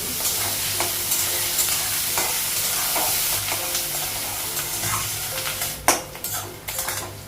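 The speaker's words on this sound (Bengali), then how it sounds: "পেঁয়াজটা আলুটা একটু ভেজে নেব" Potatoes and onions fry in a pan with a continuous close sizzle, broken by stirring scrapes and light clinks of a utensil against the metal that grow sharper near the end.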